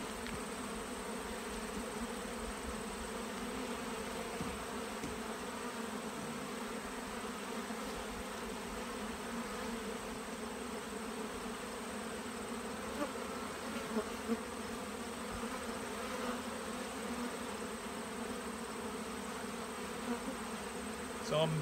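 Honeybees swarm and buzz around an open hive that is still rearing brood, stirred up after syrup spilled onto the cluster; a steady, dense, close hum carries on throughout without talk.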